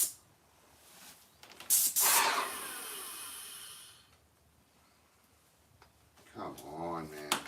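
An airless paint sprayer hisses in a loud burst, then sputters and spits unevenly, with faint rattling and shifting noises after it while a person talks nearby.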